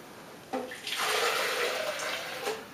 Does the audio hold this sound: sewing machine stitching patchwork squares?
no